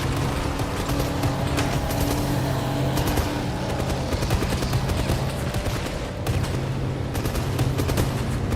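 Rapid sustained gunfire from an overheating gun in the video game 007 First Light, dense bursts with mechanical clatter running continuously at steady loudness.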